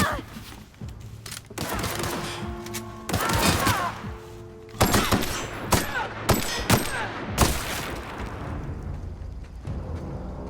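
Gunfire in The Outer Worlds, bursts of loud close shots and heavy booming blasts over about ten seconds, with short lulls between volleys and a faint voice now and then underneath.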